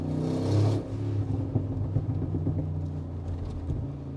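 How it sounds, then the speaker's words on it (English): Brabus G-Class G700, a 700 hp tuned G63 AMG V8, rumbling at low revs with a loud burst early on, then a steady exhaust burble scattered with sharp pops and crackles, close and without talk. "Let's listen to the pops and bangs again."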